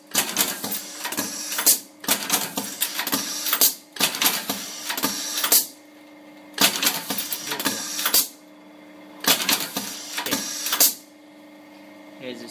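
A KMS 666 button setting machine with positioner runs in five evenly spaced bursts, each a loud clattering mechanical press cycle separated by short quiet gaps, heard up close.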